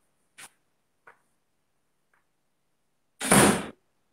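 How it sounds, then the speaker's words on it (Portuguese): A door closes indoors with one firm thud that follows a few faint soft taps spread across a quiet room. "Fecha a porta, amor."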